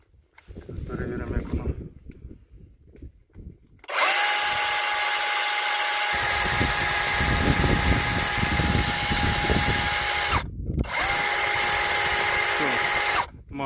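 A Vitals AKZ 1830n cordless battery chainsaw revs up loud and steady, runs continuously, cuts out briefly, then runs again, after a few seconds of speech and handling noise at the start.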